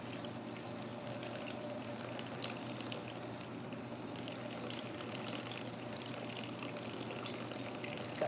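Water poured from a jug into a mixing bowl for bread dough, a soft continuous trickle and splash, quiet and close, steady for several seconds with no talking.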